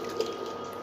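Boiled chickpeas are poured along with their cooking water into a simmering chana masala. The wet splash and trickle is brief and close, with no voices.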